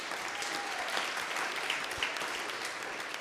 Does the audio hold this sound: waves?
no